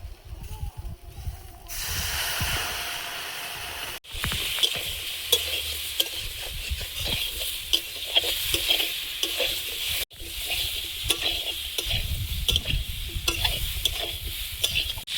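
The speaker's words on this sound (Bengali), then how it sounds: "দিয়ে পটল আলুটা তেলে একটু ভেজে নিয়েছি। এবারে গুলে রাখা মশলাটা দিয়ে দেবো।" Pointed gourd and potato fry in oil with spice paste in a pan, giving a steady close sizzle with scraping stirs that pause briefly twice, then carry on.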